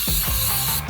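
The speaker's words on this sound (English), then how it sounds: "I'm gonna spray it with some rust check paint" Rust Check trim-clad flat black rust paint sprayed from an aerosol can onto a Ford Bronco during a hidden winch install, a loud steady hiss from close by with a few short low thumps.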